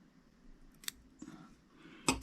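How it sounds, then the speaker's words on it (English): Scissors snip off excess thread on a Red Wizard trout fly, a couple of short, crisp cuts near the microphone with quiet pauses between them. "Just cut off the excess."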